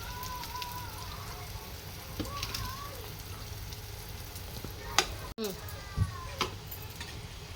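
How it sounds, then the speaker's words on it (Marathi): Tomatoes sauté in a hot pan with a steady crackling sizzle, broken by a few louder clinks of stirring, while someone talks over the cooking. "आपण याच्यात टॅमॅटो टाकूया जसं तो परतून शिजून घेऊया टॅमॅटोला पाच मिनटं शिजू द्या"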